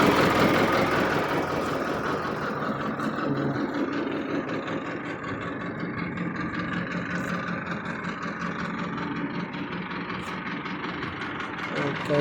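A telescopic loader's engine runs with a steady low, knocking rumble at moderate volume throughout, with a person speaking over the running motor.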